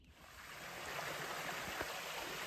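A small stream along the Appalachian Trail near the Delaware River gives a soft, steady rush and trickle of flowing water, faint and continuous, with no voices.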